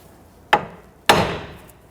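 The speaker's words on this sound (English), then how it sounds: "you can use a hammer, strike the knuckle right here while pulling up on this" Two sharp metallic hammer strikes on the steering knuckle of a 1992-1996 Toyota Camry land about half a second apart, the second louder and ringing a little longer in a quiet space.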